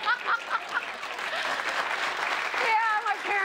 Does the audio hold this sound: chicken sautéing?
no